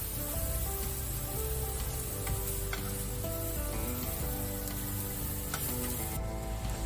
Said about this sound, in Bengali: এই ব্রকলিটা পুরো বিনা তেলেই ভাজা হচ্ছে